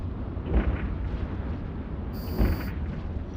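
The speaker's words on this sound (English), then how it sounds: "Firing the weapon. Blowing up the thing." Ship weapon fire and an exploding target in EVE Online, two deep booming bursts about two seconds apart over a steady low rumble, with a brief bright tone near the second blast.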